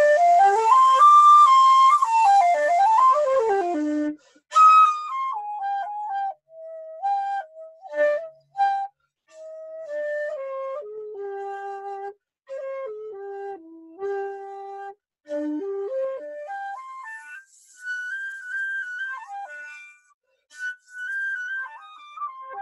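A vintage bamboo shakuhachi flute plays a slow, breathy solo melody of held notes with pitch bends and short pauses between phrases, close and clear with no talk.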